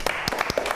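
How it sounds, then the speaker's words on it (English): A small group claps briefly in a school setting, a short burst of several soft, uneven hand claps lasting under a second. "give them a clap"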